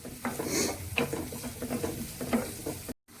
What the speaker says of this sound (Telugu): ఇప్పుడు ఇందులో జీలకర్ర, తరిగి పెట్టుకున్న ఉల్లిపాయలు వేద్దామండి.